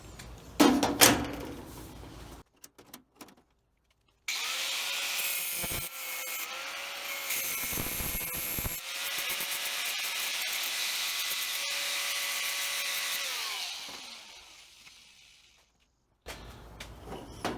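Power tool trimming a metal part during fuel sender and filler neck work on a 1936 Chevy coupe: a steady, loud grinding whine of about ten seconds that rises and holds before cutting off, with brief handling noises around it.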